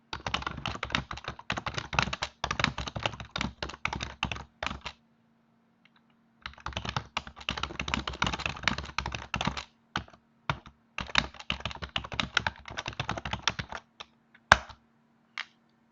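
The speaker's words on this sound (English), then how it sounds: "We type these instructions down." Bursts of rapid typing on a computer keyboard, close and clear, in three long runs separated by short pauses, with scattered single keystrokes in between and a faint steady hum underneath.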